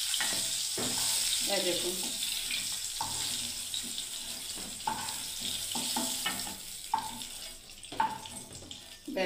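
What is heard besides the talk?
pointed gourd (potol) frying in oil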